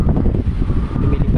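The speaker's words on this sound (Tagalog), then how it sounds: "Kita nyo naman oh, napakalakas talaga ng hangin." Strong outdoor wind roars and buffets the microphone in a loud, continuous rumbling gust, blowing through nearby bamboo.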